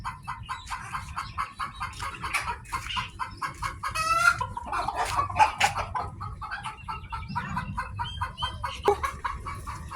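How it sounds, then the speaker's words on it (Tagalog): A crowd of chickens clucks steadily, overlapping close by, and a rooster crows partway through the din, with other birds calling over low background noise. "Ang daming manok oh."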